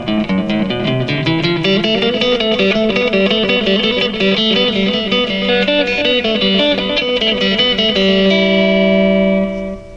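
Electric guitar played through the delay effect of a Fender Vibro Champ XD amp, a steady run of picked notes with repeating echoes trailing behind, loud throughout and ending on sustained ringing chords with no talking.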